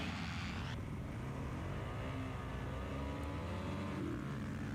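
Off-road race motorcycles leaving the start of a Moto 2 race: dense, loud engine roar with revving pitch sweeps from several bikes, and one motor briefly cutting out. It is continuous and close, with no voices.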